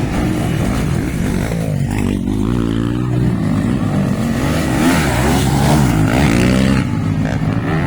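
Jam's motocross motorcycle at a Libona MX race, its engine revving hard and loud, with the note rising and falling through repeated throttle bursts and a second bike droning nearby.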